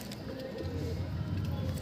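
Madras pigeon in a loft giving low, soft cooing, a couple of rounded coos close by over faint background noise.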